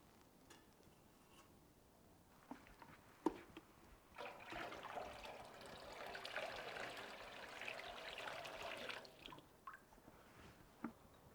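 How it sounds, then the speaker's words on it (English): Water trickles and splashes steadily into the shallow tray of a Norton Clipper CM42 masonry saw, swelling louder for several seconds before tapering off, with a few small clicks around it. "Make sure the plug is in when filling up the tray with water"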